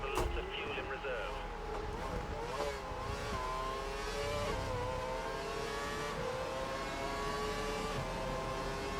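Formula 1 engines whine and shift in F1 2012 racing game coverage of a Caterham at the Canadian GP, with rising and falling tones as cars pass, while a voice talks over it.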